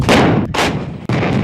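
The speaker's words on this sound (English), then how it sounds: "when India began to fire the massive Bofors guns to drive Pakistan out of Kargil" Massive Bofors artillery guns firing in the Kargil conflict of 1999, heavy booming blasts in quick succession, loud and close with long rumbling tails and no voices.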